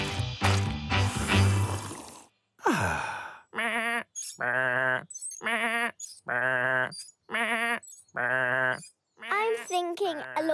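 A cartoon sheep bleats in a run of quavering, drawn-out calls, repeated about six times in an uneven rhythm after a short stretch of other sounds, clear and close.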